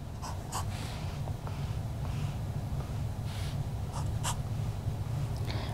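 Pen scratching across paper while filling in a truth table, a steady faint scribble with a few brief louder strokes over a low background hum, no voice.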